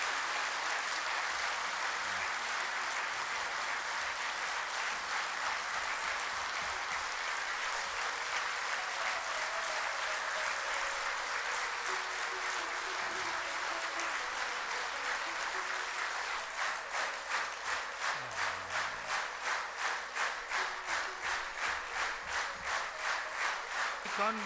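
A crowd of listeners applauds in a continuous wash of clapping, fairly soft, that turns into slower rhythmic clapping in unison toward the end.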